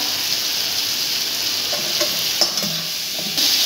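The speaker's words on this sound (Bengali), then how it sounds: "এবার সবজি দিয়ে দিচ্ছি, কুমড়ো, আলু, কুমড়ো, কাঁচা লঙ্কা" Pumpkin, potato and green chili stirred and frying in a pan, a steady close sizzle with occasional scraping stir strokes and light clinks over a continuous hiss.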